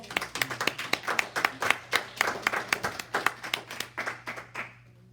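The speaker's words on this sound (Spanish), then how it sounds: "¿No merece un aplauso esto?" A church congregation applauds during a Spanish-language service, a steady burst of many hands clapping with rhythmic pulses that fades out at the end, with no talk over it.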